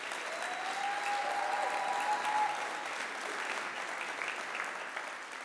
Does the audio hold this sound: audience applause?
yes